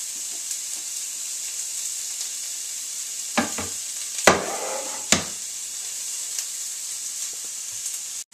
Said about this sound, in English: we put the onions and garlic in.